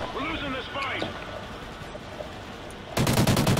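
Gunfire in Call of Duty: Ghosts during a King of the Hill multiplayer match: someone talks at first, then a loud, fast burst of automatic shots starts near the end and runs to the close.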